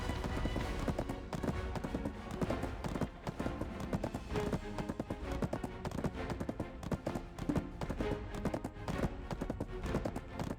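Video-game horse hooves clip-clop in a steady, continuous rhythm, close and fairly loud, a dense run of hoofbeats throughout with no talk over them.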